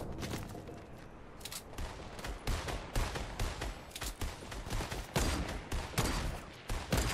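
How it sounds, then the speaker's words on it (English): Rapid, repeated gunfire from a one-shot rifle and other weapons in a Fortnite match, with dense overlapping volleys and sharp reports filling the whole stretch at steady loudness. "this is a one-shot rifle"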